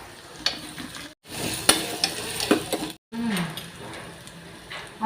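Capsicum and potato frying in a pan, stirred with a spatula: sizzling broken by scraping strokes and metallic clinks, with two brief silent cuts, close and fairly loud.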